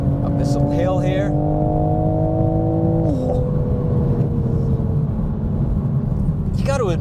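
A 2025 Toyota Supra with a BMW engine climbs a small hill, its engine droning steadily from inside the cabin, pitch rising then dropping at a gear change midway and continuing to pull, loud and constant.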